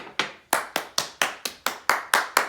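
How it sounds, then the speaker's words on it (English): One person claps for a trivia winner, about ten sharp, evenly spaced claps close to the microphone, each ringing briefly before the next, with no voices. "Another round of applause."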